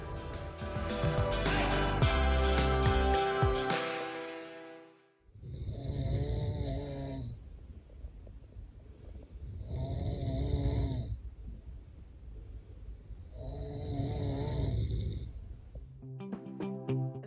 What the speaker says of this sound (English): That noise you heard right there was an authentic recording of a night in a 22-bed co-ed hostel dorm.